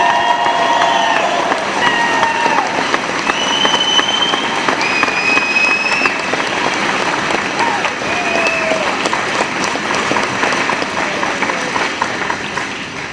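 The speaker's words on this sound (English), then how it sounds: "Big round of applause. You can do it now." An audience of about 400 at an ISS contact event yells and applauds, producing a loud, continuous wash of clapping threaded with high whoops and whistles that carries through the whole stretch without letup.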